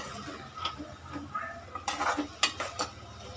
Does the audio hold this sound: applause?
no